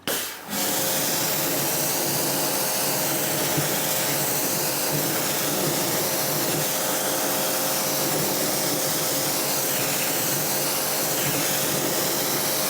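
Pressure water spray rinsing tire cleaner off car tyres, a steady loud hissing rush that runs unbroken for the whole stretch after a brief start, with no talking over it.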